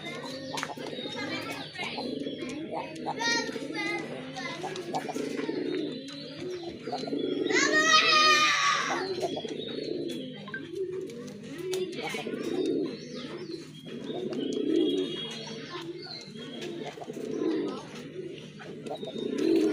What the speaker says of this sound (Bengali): আরেক জোড়া কবুতর দেখতে পাচ্ছেন রাজগোল্লা কবুতর